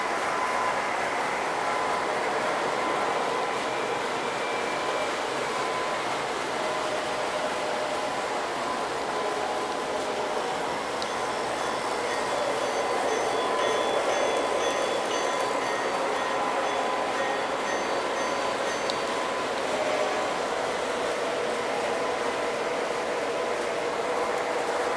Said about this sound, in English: Here comes the passenger train. It's about to make a stop here at the beach.